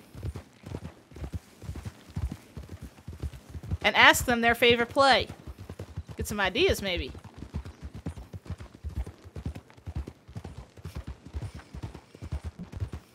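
In Red Dead Redemption, a horse's hooves clip-clop in a soft steady rhythm under close conversational talk, with a brief louder passage of other sounds midway.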